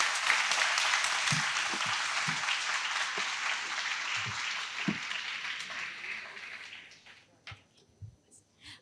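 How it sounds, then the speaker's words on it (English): Audience applause fills a conference hall at a women-and-employment session, a dense sustained clapping that gradually thins and fades, ending in a few scattered claps and thuds. "I think a big round of applause"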